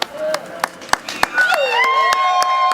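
Wedding guests at a civil marriage ceremony clap in a steady rhythm of sharp, evenly spaced claps, joined by high wavering ululation-like cries and voices in the room.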